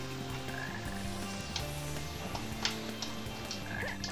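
Repeated frog croaks sound in Sonic Heroes, persisting clearly for several seconds on top of a layered, tonal game soundtrack, with a few sharper clicks scattered through.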